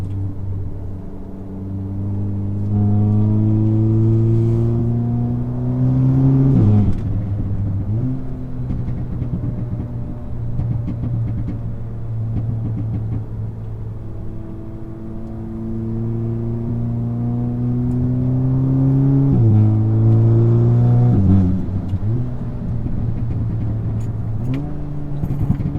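An Audi S3 with a louder exhaust driving through gear changes, engine note climbing in pitch, dropping at each shift and climbing again, with a steady close rumble throughout.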